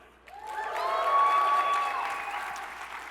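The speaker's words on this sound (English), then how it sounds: "Make some noise if you're under 35." An audience claps and whoops enthusiastically, the cheers rising to a peak and then tapering off.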